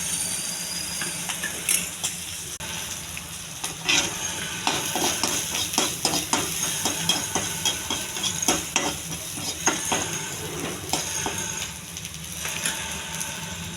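Tamarind, green chili and onion fry in a hot pan with a steady, close sizzle, while a spatula stirs and scrapes rhythmically throughout.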